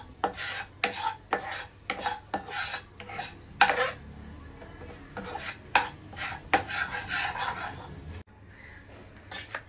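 Someone stirs white sauce for pasta in a pan with a spoon, making repeated close scraping and rubbing strokes in an uneven rhythm, with brief pauses and a quieter stretch near the end. No voices.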